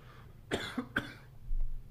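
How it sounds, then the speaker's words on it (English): Two sharp, harsh coughs after smoking a pipe, in quick succession, close and loud, followed by a quieter breathy rasp. "So were you coughing because you're so shocked by it?"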